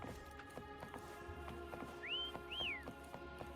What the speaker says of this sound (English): Try whistling.